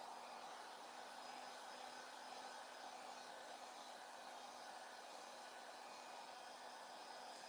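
Hair dryer blowing steadily on freshly painted navy blue craft cottage pieces, a continuous close whooshing hiss with no talk.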